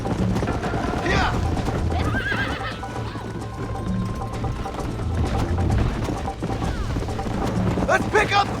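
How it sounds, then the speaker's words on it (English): Horse hooves clip-clop steadily with occasional neighs and whinnies, mixed with voices talking and a mechanical ratcheting sound, in the video game Red Dead Redemption. "Giddy up! Let's go, Miss McFarland."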